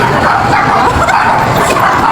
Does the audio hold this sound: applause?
no